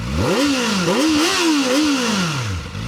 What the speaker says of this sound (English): Let's have a listen from the tailpipe.